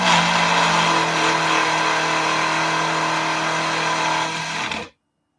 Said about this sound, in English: I'm going to pulse this for about 10 seconds 3 times. That should turn it into cream